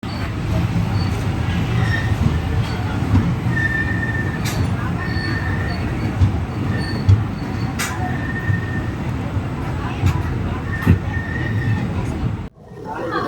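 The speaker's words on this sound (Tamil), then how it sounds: "நம்ம ட்ரெயின் இங்கேருந்து டைவர்ட் ஆகி அருப்புக்கோட்டை மானாமதுரை வழியாக இப்போ போகுங்க" Steady loud rumble of the Silambu Express running on rails between Sengottai and Chennai, heard from inside a coach, with wheel clatter and faint squeals throughout and muffled voices mixed in.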